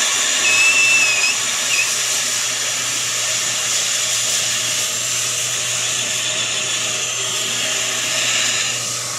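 A brake rotor resurfacing machine spins a rotor disc with a steady, even mechanical whine and low hum, and a brief thin squeal near the start, heard close with no talking.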